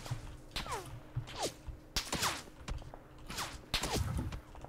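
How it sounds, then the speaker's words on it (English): Repeated gunfire in PUBG crackles in scattered bursts of sharp shots, some with whooshing tails, moderately distant and fairly quiet over a low background hum, with no talk. "My god, they're shooting a lot."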